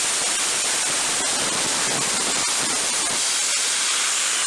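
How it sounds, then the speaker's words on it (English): A plasma torch cuts through the muffler of a Stihl 039 chainsaw, giving a loud, steady, close-up hiss with a sputtering crackle that runs the whole time. "Now to cut this out, I'm simply using a plasma torch."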